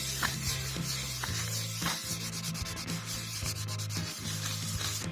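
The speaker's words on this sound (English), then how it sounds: "some 1500 grit wet sandpaper" Van paint is wet sanded by hand with 1500 grit wet sandpaper, a rhythmic back-and-forth rubbing with repeated scratchy strokes, close and steady, no speech.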